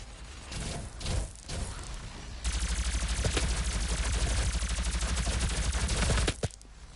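Sustained, loud automatic gunfire from a DOOM multiplayer match on PS4: a few short bursts at first, then a dense, unbroken stream of rapid shots for about four seconds before it cuts off.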